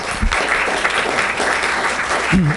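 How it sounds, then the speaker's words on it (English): Audience applause at a city council meeting honoring commission members, close and steady clapping across the whole short stretch with a brief voice at the end. "So let's give them a round of applause."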